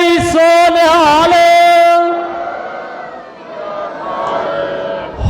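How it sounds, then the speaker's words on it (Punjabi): A congregation at a Sikh religious gathering in Jammu roars the jaikara battle cry in unison, one loud sustained chorus of voices that fades into reverberating murmur. "ਇੱਕ ਸਤਿਕਾਰ ਲਈ ਭਾਈ ਸਾਹਿਬ ਲਈ ਜਕਾਰਾ ਗਜਾਏ ਕਰਦੇ ਆ ਜੀ।"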